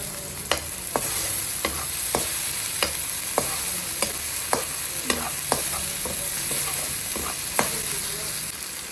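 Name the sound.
chopped Bangalore tomatoes frying in pan with ginger garlic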